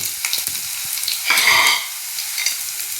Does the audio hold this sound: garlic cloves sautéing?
yes